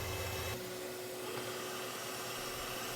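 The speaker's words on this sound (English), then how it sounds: "and that is then picked up by the vacuum" A vacuum draws up walnut shell blasting media during carbon cleaning of an Audi R8 / Lamborghini V10 engine intake, a steady moderately quiet whooshing suction hum that shifts pitch slightly after the first half second.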